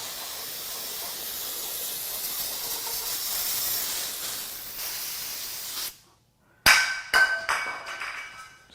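A spray nozzle blasts cleaner over oil-covered parts from a failed 2014 BMW 328i N20 2.0L engine teardown, a loud steady hiss that cuts off, then resumes in short sharp spurts.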